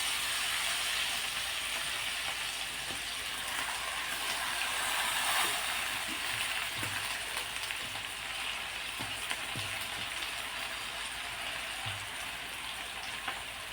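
Freshly washed tandulkundra wild leafy greens hit a hot pan with green chillies, giving a steady, fairly loud broadband sizzle and hiss that runs throughout, with a few soft clicks and thumps underneath and no talking.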